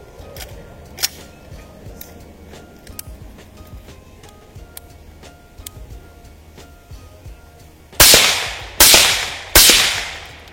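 Three loud, sharp rifle shots ring out close by in quick succession, each with a short decaying tail, after a stretch of quiet background noise with faint clicks.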